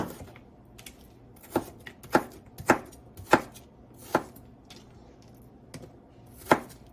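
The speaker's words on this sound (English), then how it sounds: "And we are just going to roughly chop our onion." A knife roughly chops an onion on a cutting board, with about eight crisp, close knocks spaced irregularly around half a second to a second apart, over a quiet kitchen background.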